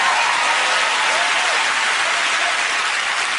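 Studio audience at a talk show applauding a guest's arrival, Sir David Attenborough: steady, dense clapping from a large crowd, loud and even throughout with no voices on top.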